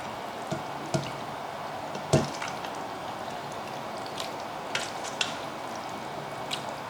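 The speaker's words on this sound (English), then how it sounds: "So I'm gonna spoon in some of the noodle mixture." Wet macaroni noodle mixture spooned into a non-stick pan, giving soft squishy plops and scattered clicks of the spoon against the pan, fairly faint and close, with no talking.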